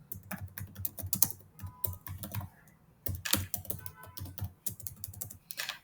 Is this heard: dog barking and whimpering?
no